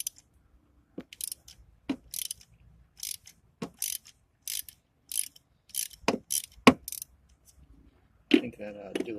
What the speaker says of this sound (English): And I got 3 extensions on this and the socket, and hopefully I'll be able to get that thing out of there.